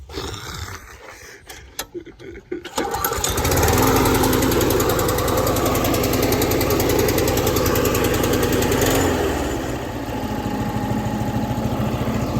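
A Toro GTS5 Super Recycler lawn mower's cold engine, after a throttle repair, catches after a few sputters and settles into a loud, steady idle that runs on close by and eases slightly near the end.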